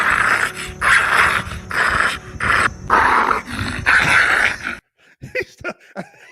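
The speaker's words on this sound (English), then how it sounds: "You go, little bulldog." A French bulldog growls and grumbles in repeated long bursts, close and loud, then gives a few short yips and whimpers before falling quiet.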